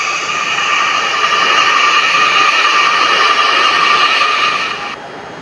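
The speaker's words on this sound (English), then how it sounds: "There we go, it's the color train over there." A colourful train passes nearby with a steady, loud rolling roar and high whine that holds evenly, then drops off abruptly near the end.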